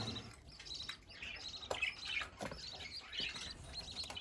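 Budgerigar chicks in a nest box in a hobby room chirp in a rapid, busy chorus of high tweets and squeaks, close and fairly faint, with no talking over them.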